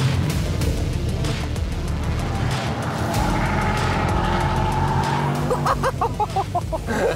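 An all-wheel-drive luxury sedan, one of an Audi S8, BMW M 760Li or Mercedes-AMG S 63, accelerating hard with a loud, steady engine roar and a brief tire squeal near the end.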